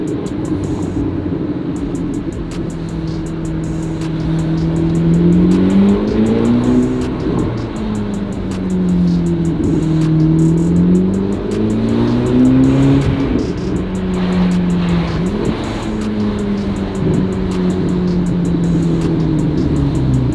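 Loud, sustained turbocharged Chevrolet C8 ZR1 engine, running without an exhaust, rising and falling in pitch as it revs and shifts, heard up close and continuously, with no speech.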